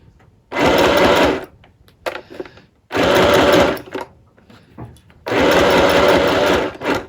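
A sewing machine stitches fabric for a vintage dress in three separate loud bursts of rapid whirring, each lasting under a second, with quieter gaps and faint handling noises between them.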